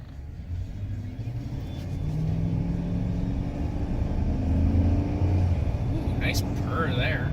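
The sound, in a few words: engine purr of a 2019 Chevrolet Silverado truck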